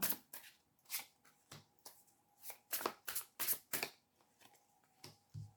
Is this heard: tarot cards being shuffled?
yes